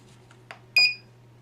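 An electronic relay in a remote alarm sensor clicks once, a single faint close tick over a steady electrical hum, followed moments later by a short, brighter electronic tone.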